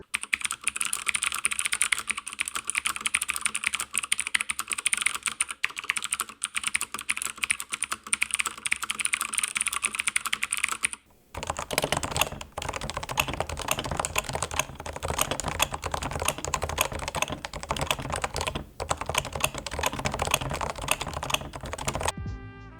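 Continuous typing on a keyboard with soft, non-Cherry-style switches, a rapid stream of muted clicks that pauses briefly midway and then resumes with slightly brighter, denser keystrokes.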